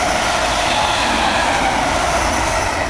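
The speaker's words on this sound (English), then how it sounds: "Another southbound train now, about to thunder through Needham Lake." A southbound train hauled by a pair of 'dusty bin' locomotives thunders past at Needham Lake, a loud, steady roar of engines and rolling wheels filling the whole span close by.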